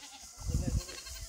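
A goat gives a short, loud bleat mid-clip while being caught by hand, with quieter handling noise before and after.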